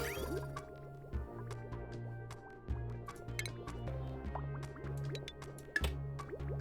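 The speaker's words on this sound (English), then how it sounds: "On this side, we need to start getting the water in." Water pouring in to fill an aquatic build in a video game, a steady low gurgling fill with scattered drips and bubbly squishes, soft and continuous without talk.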